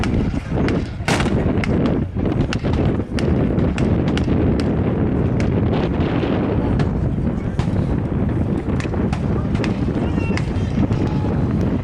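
Mock battle gunfire at a WWII weekend reenactment, with sharp blank-fire reports cracking out irregularly over a constant loud wind and engine rumble, some shots close and others farther off.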